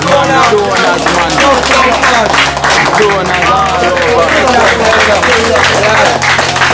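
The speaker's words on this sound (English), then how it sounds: "give them a hard round of applause, man" A crowd applauds donors handing out Christmas bonuses, with steady clapping running beneath someone talking loudly over it and a tonal background layer throughout.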